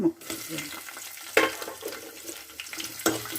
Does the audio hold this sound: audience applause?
no